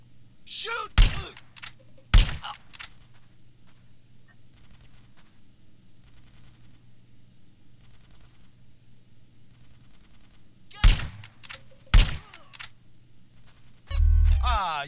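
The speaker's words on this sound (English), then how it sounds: "Some suppressing fire in there!" Gunfire in GTA San Andreas: a handful of sharp, loud shots, two near the start and two more later, separated by long stretches of low, steady game ambience.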